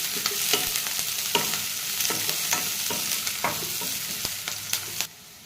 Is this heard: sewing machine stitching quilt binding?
no